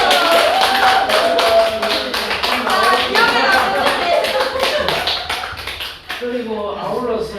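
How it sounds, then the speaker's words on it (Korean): Small gathering clapping loudly and close by, sharp rhythmic hand claps with voices speaking and laughing throughout, the clapping thinning briefly near the end before resuming. "자 박수"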